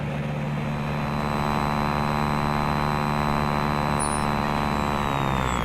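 A light aircraft's propeller engine drones steadily while taxiing and turning around on the ground, a loud, even, tonal hum held close and unbroken, with a faint high whine drifting in near the end.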